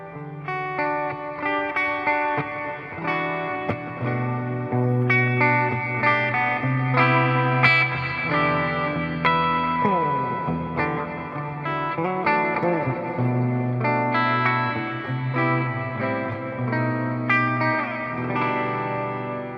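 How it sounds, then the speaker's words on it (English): An electric guitar plays chords and notes through a Source Audio Soundblox 2 Dimension Reverb pedal set to a long reverb time, with each note washing out into a lush, sustained tail. The playing is steady and fairly loud throughout. "if I set the reverb time way up on that guy"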